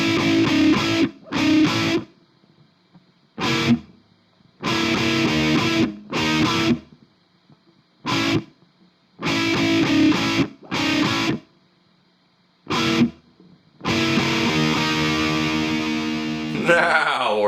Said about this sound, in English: let's get into some heavy guitars, for crying out loud